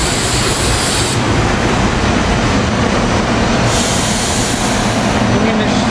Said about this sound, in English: Bringing this train to Malvern actually.